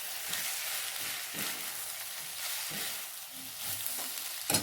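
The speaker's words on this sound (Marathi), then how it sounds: "आता ती चांगल्या प्रकारे परतून घ्यायची आहे." Capsicum, onion and ginger-garlic paste sizzle steadily while being sautéed in a pan for soybean chilli, a continuous frying hiss with occasional stirring scrapes, close and with no talk.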